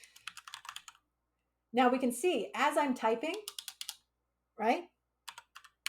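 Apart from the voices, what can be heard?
typing on a computer keyboard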